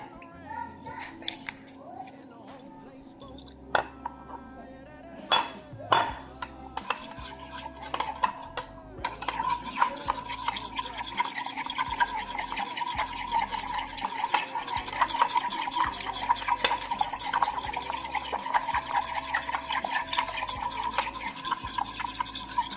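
A utensil stirs Worcestershire sauce into a BBQ mixture in a pot, giving a continuous scraping, swishing rhythm under faint background noise; a few clinks come early before the stirring settles into steady motion.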